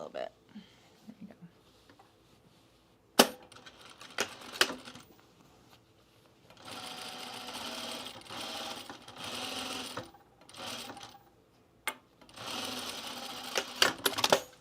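A sewing machine stitches the final seam pass on a pajama top neckline in bursts of rapid mechanical chatter separated by pauses, with soft clicks and handling noises between runs.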